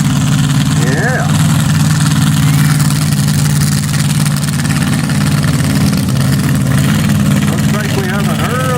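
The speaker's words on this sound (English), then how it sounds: "There comes the boiler motor." A truck engine idles with a deep, steady rumble at a county fair truck pull in the 6200 two-wheel-drive class, loud and continuous throughout, with a voice briefly heard over it.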